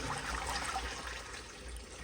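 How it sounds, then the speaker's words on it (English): An American Standard Townsend Vormax toilet from 2018 flushing with rags in the bowl, a steady rushing wash of water running throughout, close and fairly loud. "here is a flush."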